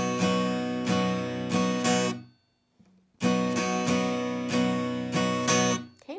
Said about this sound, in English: the second half will sound like this